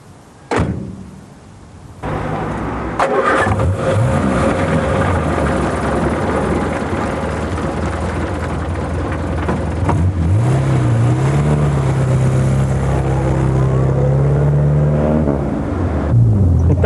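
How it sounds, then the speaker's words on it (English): A Morris Minor sets off on a test drive: a door thumps shut, the engine starts and settles into a steady drone, then revs rise and fall as it pulls away, loud and close with no talk. "Let's go for a test drive."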